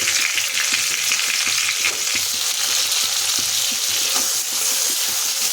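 Ginger, green chilli paste and cumin powder fry on a low gas flame, a loud, continuous crackling sizzle up close with steady stirring scrapes running through it.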